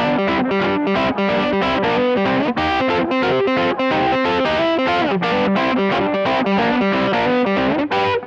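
An electric guitar plays blues double stops through an organ-like effect, a chain of rhythmic, even chords with a thick, chorused and slightly distorted tone, loud and close, with no talking.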